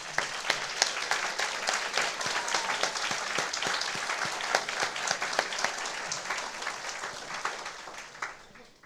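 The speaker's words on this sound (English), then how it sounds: "please stand so we may recognize you with a big round of applause" A big round of applause at a cancer support team luncheon, steady and sustained from a seated audience for about nine seconds before tapering off at the end.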